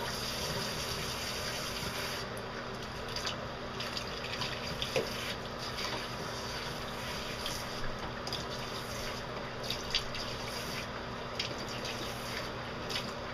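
Water streaming from a shower head through a dog's heavily conditioned coat during the final rinse of a grooming session, a steady close hiss with small splashy bursts throughout.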